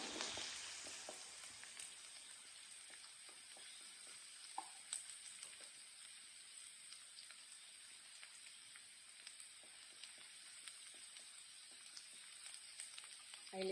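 Garlic sautés in a hot pan for chicken pasta, a steady close sizzle with scattered crackles and pops and the odd stirring scrape, and no talking over it.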